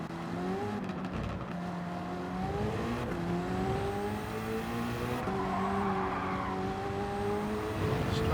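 Race car engine in Gran Turismo 7 holding steady, rising and falling harmonic tones as the car slides its rear out through a corner, with faint tire scrub beneath a continuous close engine drone.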